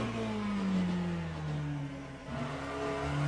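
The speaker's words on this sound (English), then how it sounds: "Love the sound of this car too, by the way." A race car in the Le Mans Ultimate sim revs with a raw engine note, rising and falling pitch as it shifts through gears, loud and close with no talk.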